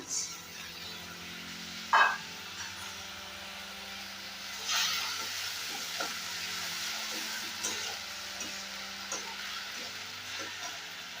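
Spices sizzling in a pan while being sautéed for a Bengali masoor dal curry, a steady low frying hiss with a few scattered clinks and stirring scrapes, one sharper burst near the start.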